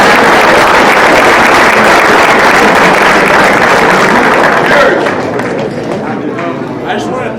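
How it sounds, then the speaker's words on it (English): A loud, dense crowd applause filling the space, sustained for several seconds before easing slightly toward the end. "big round of applause for Bryndon Robles."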